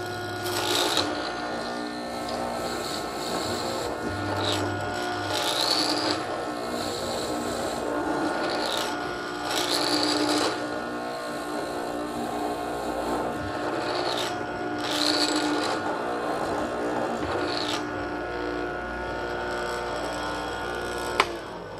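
A machine chops mortises into gnarly mesquite burl wood for a bed build, giving a sustained grinding, rasping hum with repeated rising bursts as the cutter plunges in, close and fairly loud.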